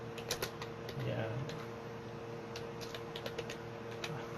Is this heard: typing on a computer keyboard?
yes